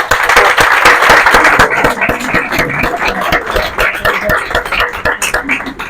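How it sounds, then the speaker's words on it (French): An audience applauds a rabbi at a talk, with steady, full clapping from a crowd that stays loud and dense throughout. "Je voudrais vraiment qu'on l'applaudisse et qu'on le remercie tous pour ce qu'il fait"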